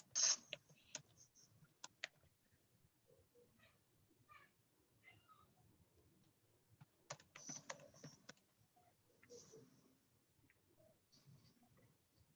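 Someone types on a computer keyboard during a board meeting, with scattered quiet key clicks and short bursts of taps at a distance, faint throughout.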